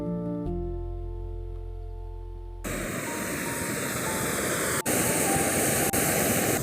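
Rushing water from a stream at a wild camp: a low steady hum at first, then a loud, continuous close-up wash of flowing water that fills the rest of the clip.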